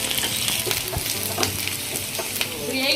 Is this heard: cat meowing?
no